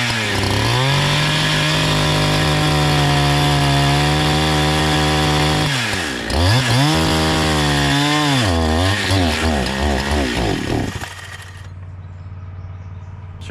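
A NEO-TEC NH872 71cc gas chainsaw plunges into a knot in wood, its engine howling loudly and bogging down in several dips as it labors, then stalling out near the end.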